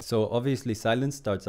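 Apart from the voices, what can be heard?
No everyday noise stands out behind the speech.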